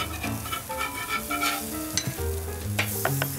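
Lamb burgers sizzle on a gas braai as they are turned, with a steady close frying hiss and a few scraping, clattering knocks from the turning.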